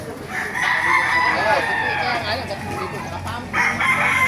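A rooster crows loudly nearby while hens cluck busily around it, with a voice talking faintly under the farmyard noise.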